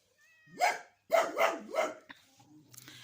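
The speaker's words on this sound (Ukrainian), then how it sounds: "О, ось розгавкався." A dog barks four times at close range, one bark then a quick run of three, followed by quieter rustling and faint movement.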